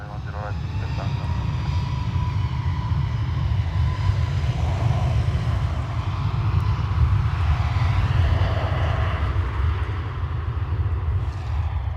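An airliner takes off from runway 10 right at Dublin Airport, a broad, steady engine roar rumbling low and strong for the whole stretch, heard from a distance with a thin whine riding above it.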